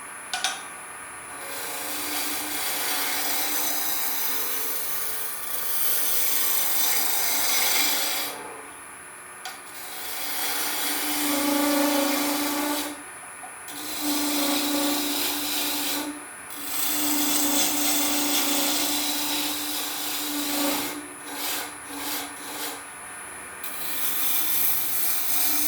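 A wood turning tool scrapes and cuts a spinning candlestick blank on a lathe, giving a continuous loud rasping hiss broken by short pauses as the tool is lifted and repositioned.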